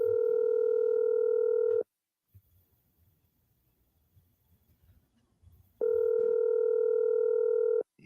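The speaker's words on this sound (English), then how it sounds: "Your phone ringing." Telephone line tones in a live radio call-in studio: a steady, loud dial tone for about two seconds, a quiet stretch with faint background rustle, then the same tone returns for another two seconds.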